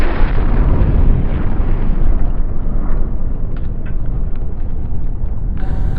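A hand grenade blast rumbles loudly and decays into a long, low roar, with a few small clicks and debris sounds trailing off at the end.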